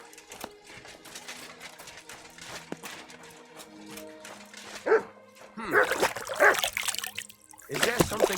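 A dog in the medieval game Kingdom Come: Deliverance II barks and whines in short bursts at close range, with trickling water in the background and no talk.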